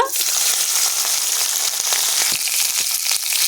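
Prawns frying in white oil in a kadai crackle and sizzle steadily up close, with scattered sharp pops throughout.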